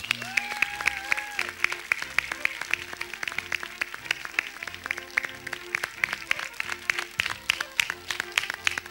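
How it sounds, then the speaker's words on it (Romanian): Audience applause in a hall in Gura Humorului greeting Marioara Murărescu, a dense, steady patter of many hands clapping, moderately close and filling the whole stretch over a faint musical backdrop. "Aplauze, multe aplauze și flori pentru doamna Marioara Murărescu."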